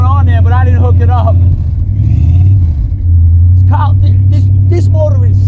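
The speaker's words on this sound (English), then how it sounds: "This is a great truck motor. Get it to warm up a little bit and you're good to go." A rebuilt truck motor idles while warming up, a loud, steady low rumble running throughout beneath someone talking close by.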